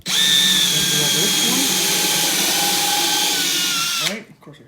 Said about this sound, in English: Drill that hole. Then drill this